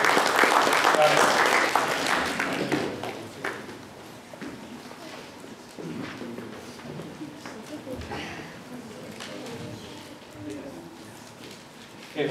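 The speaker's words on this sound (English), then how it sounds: "Big round of applause, please." A burst of clapping from a crowd at a kids' startup boot camp rises loudly at first, then fades into scattered claps as people start talking.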